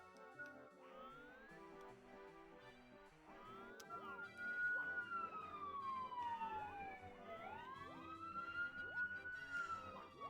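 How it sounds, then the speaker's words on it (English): Emergency vehicle sirens pass by outside, heard indoors as muffled, distant wails with rising and falling sweeps that overlap and hold steady for the whole stretch. "I don't know if you guys can hear those sirens that just drove by"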